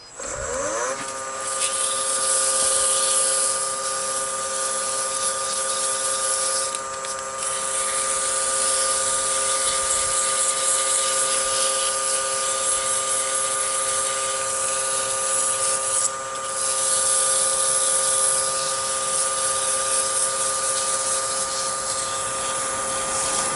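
Wood lathe spinning a turned scratch awl for sanding, a steady high whirring drone with a faint scratchy hiss of sanding, close and constant, with a brief dip partway through.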